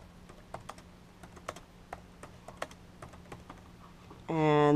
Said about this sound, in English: So type in your name at the top.